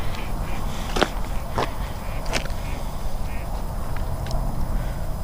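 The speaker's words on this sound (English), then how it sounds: "Those are ducks." Ducks near a river on a cold, cloudy day give several brief, scattered quacks at moderate distance over a constant wash of outdoor noise.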